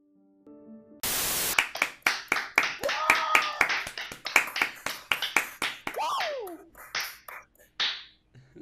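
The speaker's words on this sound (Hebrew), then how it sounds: "למה מחאנו כפיים?" A group of people clap their hands in a burst of sharp, uneven claps, close and fairly loud, while voices talk and exclaim over them.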